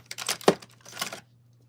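Scissors cutting through paper or cardstock during crafting: a few quick close snips in under two seconds, no talking.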